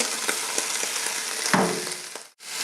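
Onions frying with already browned beef in a pan, a soft steady sizzle with a few stirring scrapes and a louder burst as they hit the hot fat, close by and with no talk.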